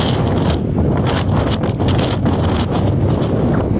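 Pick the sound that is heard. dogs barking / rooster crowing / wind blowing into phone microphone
wind blowing into phone microphone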